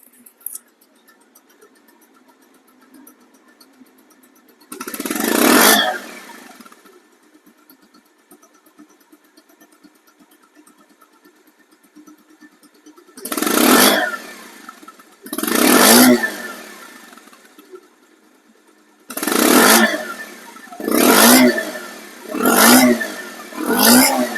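A used 2021 Bajaj Pulsar One Disk motorcycle idles quietly and is revved repeatedly. One long rev is followed by a series of sharp throttle blips that come faster toward the end, each rising and falling back to a low idle.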